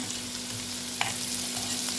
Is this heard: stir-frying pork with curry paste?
yes